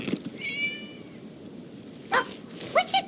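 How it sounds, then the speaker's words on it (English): A cat meows in the video game Genshin Impact, one drawn-out meow early on, then a few short, sharper sounds near the end over a quiet ambient background. "It was just a cat."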